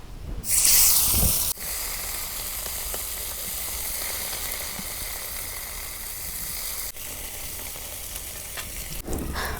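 Spiced rohu fish pieces fry in hot oil, a steady crackling sizzle that holds at moderate level, opening with a brief louder burst as the fish goes into the pan.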